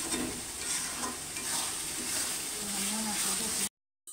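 Spice mixture frying and being stirred in a pan before chicken goes in: a loud continuous sizzle with wet scraping strokes, then the sound cuts off abruptly into silence near the end.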